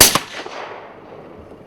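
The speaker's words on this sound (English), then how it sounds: "A solid high neck shot just under his chin with the muckill as a base." A single sharp rifle shot rings out during night-time fox control, followed by a fading echo that rolls away across open ground.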